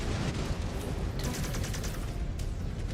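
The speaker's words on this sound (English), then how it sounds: "Incoming missile." Rumbling barrage of missile impacts and explosive fire in Mechwarrior 5: Clans, a steady dense low roar with a brighter burst of crackling hits midway, no voices.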